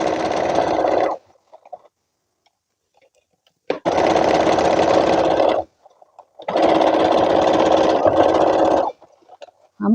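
A sewing machine stitches a garment in three long, loud bursts of steady whirring, separated by short pauses with faint handling noise.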